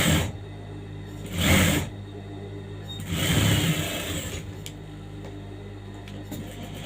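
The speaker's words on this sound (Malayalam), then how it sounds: "പതിയെ പതിയെ സ്റ്റിച്ച് ചെയ്തിട്ട് കൊടുക്കണം." A sewing machine stitches a princess-cut blouse at slow speed in two short bursts separated by quieter pauses, running steadily close by with no talk over it.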